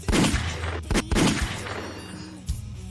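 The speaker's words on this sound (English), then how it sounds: "Gunshots is crazy." Gunshot sound effects in a song: several loud booming shots in an uneven burst over dense music, with a final single shot near the end.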